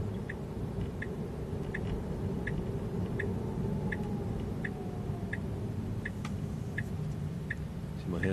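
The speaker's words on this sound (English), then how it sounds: "You'll hear the turn signal." A 2024 Tesla Model 3 AWD turn signal ticks steadily about once every 0.6 seconds over the low hum of the car's cabin while it drives and turns, with no one speaking.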